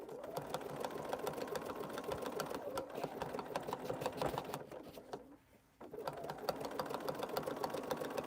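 A sewing machine runs a zigzag stitch while a quilted bowl is sewn, its needle tapping in a fast steady patter that stops briefly and then resumes, close and fairly quiet.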